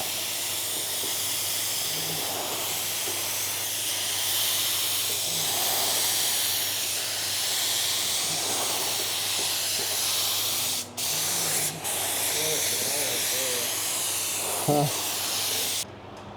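A spray gun lays UV clear coat across a car roof in a steady, continuous hiss that runs almost without pause, briefly cutting out a few times near the end.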